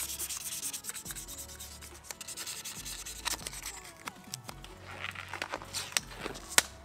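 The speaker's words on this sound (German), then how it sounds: "Als erstes nehmen wir uns feines Schleifpapier und schleifen das Ganze erst einmal ein bisschen an." Close, steady rubbing of fine sandpaper on a Victorinox Huntsman pocket knife, soft scratchy strokes repeating with occasional small knocks.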